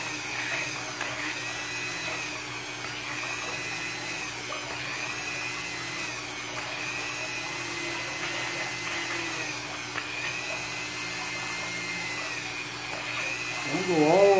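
A power drill bores holes into plastic drainage pipe, giving a steady, high-pitched whine that runs unbroken for the full length, near and fairly loud, rising slightly right at the end.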